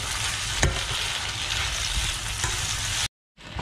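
Meat stir-frying with chili powder in a wok for jjajang sauce, a steady loud sizzle with scraping stirs throughout, briefly cutting out near the end.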